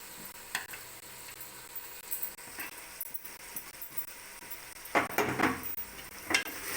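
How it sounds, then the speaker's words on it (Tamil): Mint and coriander leaves with garam masala sauté in a pot for chicken biryani: a faint, low sizzle with scattered stirring scrapes and light utensil clinks, which grow louder near the end. "கொத்தமல்லி தலை போட்டு எல்லாத்தையும் நல்லா வதக்கி வதக்கிட்டு நம்ம சிக்கன் சேர்த்துக்கலாம்"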